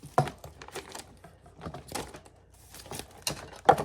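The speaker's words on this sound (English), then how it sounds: "Let's open it up with the scissors because it's not going to come off easily." Scissors cut open a package, giving irregular crisp snips and crinkles of packaging up close, with quiet gaps between the cuts.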